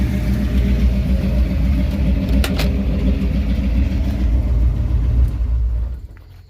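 A Ford F250 truck with a 347 stroker engine idles steadily up close, a deep loping rumble with no talk, until it shuts off and fades away near the end.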